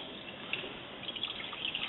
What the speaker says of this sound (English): if you let the hot water run hot